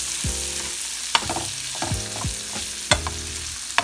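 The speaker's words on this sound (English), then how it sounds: "you do not have to cook shrimp long at all" Jumbo shrimp fry in a hot pan with a steady loud sizzle, stirred and shifted now and then with sharp scraping clinks against the metal, close up with no talking.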